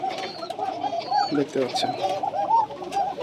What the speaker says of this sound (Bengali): আমার এটা হচ্ছে কবুতরের খামার।